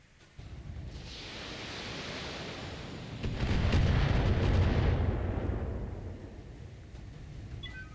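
Mech weapons firing in the Battletech video game, a long roaring volley that swells to a heavy rumbling peak and then fades, with no talk.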